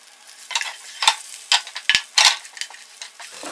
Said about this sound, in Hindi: राई चटकने लगेगी